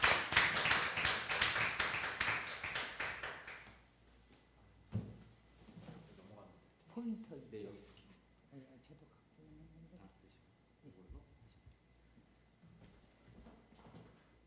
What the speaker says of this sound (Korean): 임장수 선생님을 큰 박수로 환영해 주시기 바랍니다